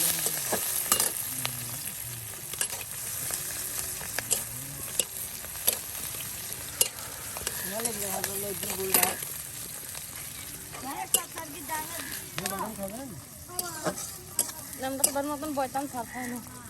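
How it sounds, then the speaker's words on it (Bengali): Chopped chili and onion frying in oil, a soft, steady sizzle under a voice talking, with frequent utensil clicks and stirring knocks. "এই যে এখন একদম কুচি করে নেওয়া মরিচ আর পেঁয়াজ কুচি কিন্তু এখন তেলে দিয়ে দেওয়া হলো দেখুন"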